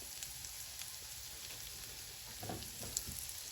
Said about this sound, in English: So now I'm gonna add the butter here and let the butter melt down a little bit.